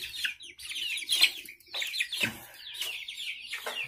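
Giant chickens of the Índio Gigante, Jersey Giant and Brahma breeds clucking and squawking close by, a run of irregular bursts with short gaps between calls.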